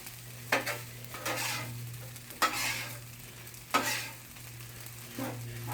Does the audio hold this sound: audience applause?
no